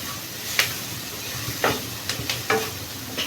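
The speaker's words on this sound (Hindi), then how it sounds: "मसाला हमारा फ्राई हो गया है।" Spice masala frying in oil gives a steady soft sizzle, with a few brief scraping stirs of a spoon in the pan, fairly quiet and close.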